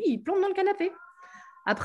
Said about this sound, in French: pardon pour le chat